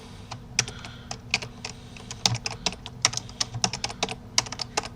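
Typing on a computer keyboard in a Linux terminal: close, irregular clicks and taps in quick bursts with short pauses, heard alone.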